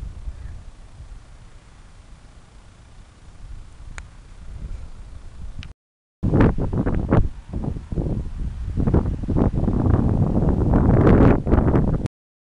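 Wind blusters outdoors and buffets the microphone, quiet at first and then turning into loud rough gusts that build over several seconds.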